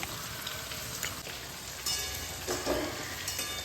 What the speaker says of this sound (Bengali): পেঁয়াজের সঙ্গে চিকেনটা খুব ভালোভাবে ভাজা হয়ে গেছে।